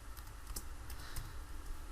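Soft, quick keystrokes on a computer keyboard as a new folder name is typed, a short run of faint clicks close by with no voices.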